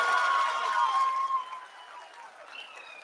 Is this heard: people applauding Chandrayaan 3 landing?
yes